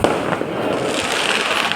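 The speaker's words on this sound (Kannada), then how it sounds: "ದೇವ್ರು ಬರೋ ಟೈಮಲ್ಲಂತೂ ಇನ್ನೂ ಪಟಾಕಿ ಹೆವಿ ಹೊಡಿತಾರೆ" Firecrackers burst at a village Diwali temple festival, a dense, continuous barrage of loud crackling pops with no pause between them.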